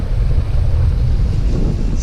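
Steady wind roar on the microphone while a sailboat moves at about six knots under mainsail off the Alaska Peninsula, a constant low rumble with faint water wash throughout.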